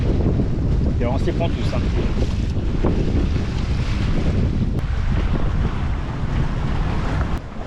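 Strong gusting wind roars across a sailboat in a squall at 22 to 25 knots apparent wind, loud and constant over splashing water, with someone briefly talking under it.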